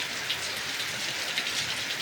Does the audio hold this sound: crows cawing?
no